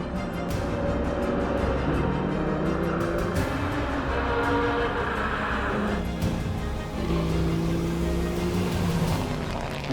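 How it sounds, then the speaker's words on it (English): A Porsche 935 race car, a 911 with a body kit, drives at Spa-Classic. Its engine roars loud and close throughout, and the pitch rises and falls as it accelerates and shifts. "Porsche 911 was also given a nice body kit to be transformed into the formidable 935."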